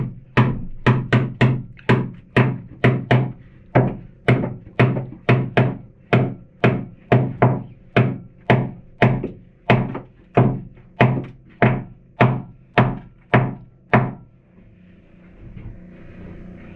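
A steady series of loud, sharp thunks, roughly two to three per second, hammering a wooden brace in a boat's engine room over and over until the pounding stops near the end.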